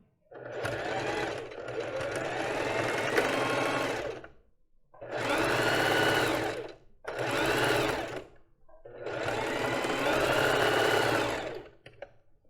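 A domestic sewing machine stitches a lace bra, running in four bursts with brief pauses for backstitching at the start and end, close and loud with a steady mechanical whir.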